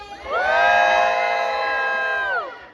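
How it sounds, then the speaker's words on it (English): A concert crowd at a pop show in Chicago screams and cheers loudly in a sustained high-pitched roar of many voices, swelling quickly, holding steady for about two seconds, then dropping off. "I love the way you guys cheering and singing and dancing."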